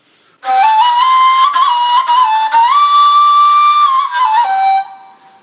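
A solo ney flute sounds a short taksim phrase in makam Buselik, breathy tone holding and sliding between a few sustained pitches, close and clear before stopping.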